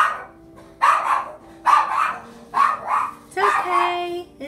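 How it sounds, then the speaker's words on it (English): A small dog barks in several sharp, close bursts spaced about a second apart, loud and excited, with faint voices in the background. "When I do these sessions, my little dog Beaver, it gets very wound up"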